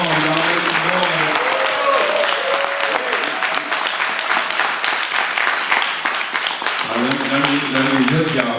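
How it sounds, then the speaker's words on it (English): A crowd at a Kwanzaa celebration showcase claps and cheers loudly and continuously, dense applause with shouts mixed in, while a voice talks over the start and end. "Y'all come on, clap it up again."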